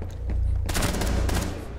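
A rapid burst of Rainbow Six Siege gunfire with sharp, overlapping shots over a low steady hum, loud and close throughout.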